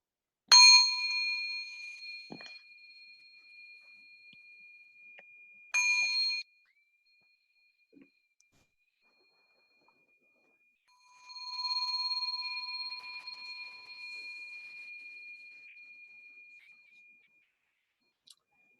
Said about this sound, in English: I'm going to ring a bell to start.